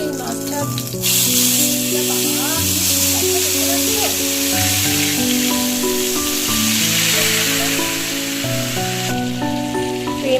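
Green chillies drop into hot oil with black cumin seeds, setting off a loud, steady sizzle and spatter that flares up and eases off while someone speaks over it.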